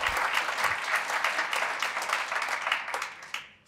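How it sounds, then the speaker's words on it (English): A crowd at a 50th anniversary celebration of the Carroll County Bureau of Aging and Disabilities gives a short burst of steady applause that tapers off near the end. "So if we can, give them another round of applause."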